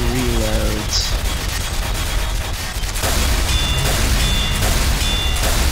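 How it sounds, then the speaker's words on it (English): Gunfire from the shooter game Team Fortress 2 in Mann vs. Machine mode, a steady loud barrage of rapid shots and impacts running throughout, with game effects layered in and no clear talk over it. "Yeah, you just shoot at it. With all of your bullets."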